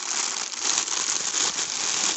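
Close, continuous crinkling and crackling of a plastic bag of diamond painting supplies being pulled and ripped open by hand, with no voices.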